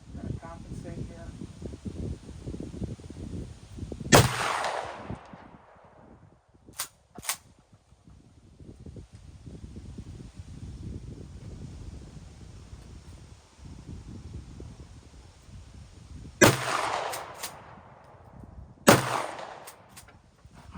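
A cheap shotgun fires outdoors in three sharp, loud reports spaced several seconds apart, each followed by a quick decay, with light handling noise and quiet background between shots.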